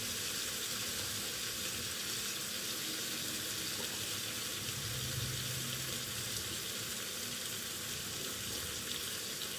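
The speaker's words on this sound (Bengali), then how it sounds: "এবার ডিমগুলো দিয়ে দিচ্ছি। কষানো হতে থাক" Eggs fry in a spiced sauce in a pan, giving a steady, close sizzle with a constant hissing crackle that holds unchanged throughout, with no talking.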